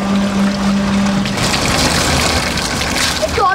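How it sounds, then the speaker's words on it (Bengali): Water splashed from a mug onto a bicycle during washing, a continuous wet rushing and spattering that fills the clip at close range, with a steady hum underneath. "আমার কাছে পাইপ নেই, তার জন্য আমি মগ দিয়ে ধুচ্ছি"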